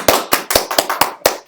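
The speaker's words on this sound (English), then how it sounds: "You can do more than one clap." A few sharp, loud hand claps sound close by. About seven slaps land in a slightly uneven rhythm, with a brief ringing tail after each one.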